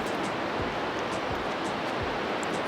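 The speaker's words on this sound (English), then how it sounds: "So this is the first point that we are going to see of Kaieteur Falls." Kaieteur Falls in Guyana, a huge single-drop waterfall, gives off a dense, continuous rushing roar heard steadily throughout with no voices.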